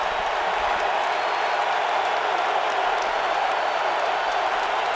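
A football stadium crowd at an NFL game between the Cowboys and Colts cheers and roars steadily, a loud, dense, continuous wash of noise from start to finish.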